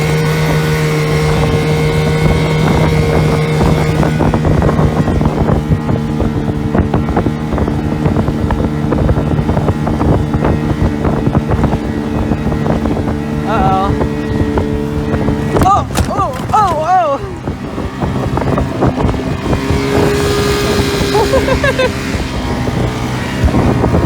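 An inflatable boat with a Chrysler outboard motor drones loudly and continuously while racing across wakes on Folsom Lake, with wind buffeting and brief splashes, and voices talking over the engine.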